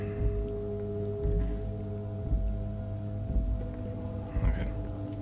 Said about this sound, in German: Auch wenn es regnet, ja, okay.